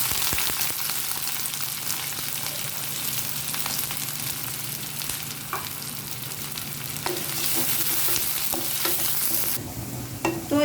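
Sliced onions frying in soybean oil with dried red chillies for a crisp fried-onion base for duck curry, a steady close dense sizzle with occasional stirring scrapes throughout, no voices.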